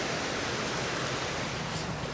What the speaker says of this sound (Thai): มีน้ำตกเล่นได้นะน้ำอ่ะ